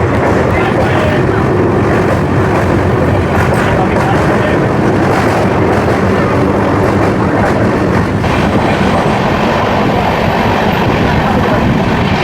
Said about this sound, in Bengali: ট্রেন দুরন্ত গতিতে ছুটে চলেছে নিজের গন্তব্যস্থলের দিকে